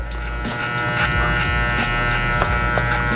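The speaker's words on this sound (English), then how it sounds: "just run the clipper against it in the same way it's flowing" An electric hair clipper buzzes steadily, close up, while it cuts straight hair against the grain for a vintage combover, with faint rhythmic swishes as it moves through the hair.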